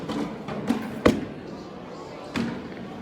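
Cornhole bags landing on the board during a match, a few dull thuds with one heavier slam near the middle, heard under a commentator's continuous talk.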